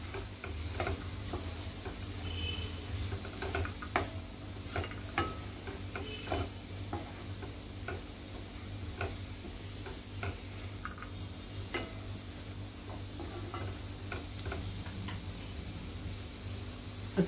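Cabbage and chana dal sabji is stirred in a pan with faint, repeated light clicks and scrapes over a quiet steady background hum.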